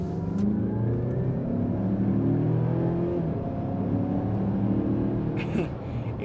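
A 2023 Mazda CX-5 Turbo Signature AWD engine pulls through traffic, a steady rising hum with climbing engine tones heard from inside the cabin, easing off near the end.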